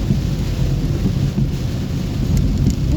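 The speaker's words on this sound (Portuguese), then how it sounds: "Muita chuva aqui na capital de Rio Branco." Heavy rain with rumbling thunder in Rio Branco, Acre, in Brazil's capital region: a dense, steady roar of downpour with deep low rumbles, loud and continuous throughout, with no voices.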